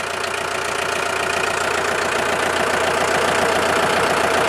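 A tractor engine idles steadily and loud throughout, a dense continuous mechanical rumble with a fast low pulsing and no voices, on a farm where cows are being rounded up.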